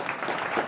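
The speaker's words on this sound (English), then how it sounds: "Can you clap for him?" Audience applause at a school gathering for a teacher, a short burst of steady, fairly loud clapping from many hands with no talk over it.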